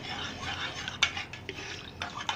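A spoon stirs yogurt starter into warm milk, making soft scraping and swishing with a few light clinks against the pot, one sharper knock standing out. A faint low background hum runs under it.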